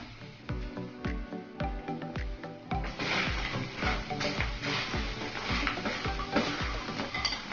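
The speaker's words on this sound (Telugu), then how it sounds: "ఇప్పుడు మీడియం ఫ్లేమ్ పెట్టుకొని మీరు వేయించుకోవాలి" Steady sizzling of taro root frying in a pan over medium flame, with repeated scraping and clinking of a utensil against the pan throughout.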